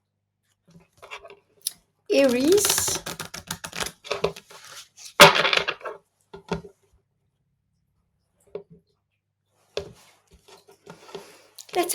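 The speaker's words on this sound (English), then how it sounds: "I shuffled the cards" Tarot cards are shuffled by hand in quick bursts of riffling and flicking, close and crisp, with pauses between bursts and a few soft taps, alongside brief speech.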